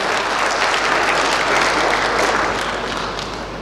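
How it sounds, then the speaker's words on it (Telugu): Steady, loud applause from a crowd at a police commissionerate press meet, honouring police plasma donors, sustained without pause and tapering only slightly at the end. "వాళ్ళ కోసం ఒకసారి గట్టిగా చప్పట్లు కొట్టండి."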